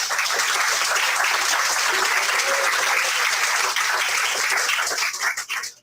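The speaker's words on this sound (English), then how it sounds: "So I'd like everybody to give her a round of applause." A closing plenary audience applauds steadily and loudly for a colleague, a dense wash of clapping that holds for about five seconds before tapering off abruptly at the end.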